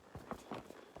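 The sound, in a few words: horse hooves clip-clopping during a trail ride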